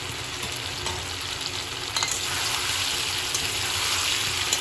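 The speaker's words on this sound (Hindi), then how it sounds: "इस टाइम पर मैं यहाँ पे डाल दूँगी ये जो हल्का सा बॉयल किया हुआ चना" Lightly boiled chickpeas added to pui shak greens frying in a pan: a steady, close hiss and sizzle that grows slightly louder and busier midway, with no talking.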